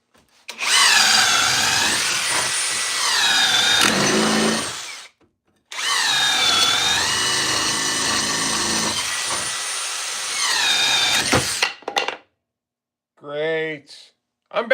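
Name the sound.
cordless drill boring with Bosch 3/8 inch paddle bit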